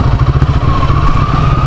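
Motorcycle being loaded for an island crossing to Sabtang, its engine running with a loud, steady low rumble and rapid putter throughout.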